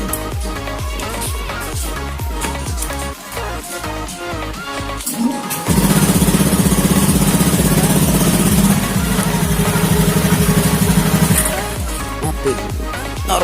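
A motorcycle fitted with an anti-theft kill switch starts midway and idles loudly and steadily nearby for several seconds before cutting out, following a stretch of rhythmic mechanical clatter.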